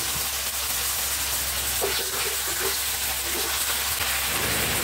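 Tomatoes and tenderized beef tail sauté in a pan for beef pochero, giving a steady loud sizzling hiss with faint clinks of a utensil stirring.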